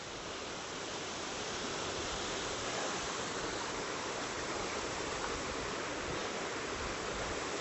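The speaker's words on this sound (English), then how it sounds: "So I've got to the foot of the waterfall." Waterfall on the Isle of Mull heard from its foot, a dense, steady roar of falling water that fills the scene, constant and close with no voices.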